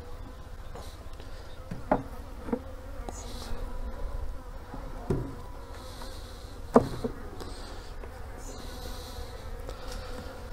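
Honey bees buzzing around an open beehive during an inspection, a continuous close drone of many insects with occasional soft knocks and handling sounds, no talk.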